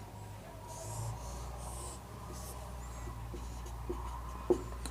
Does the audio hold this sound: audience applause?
no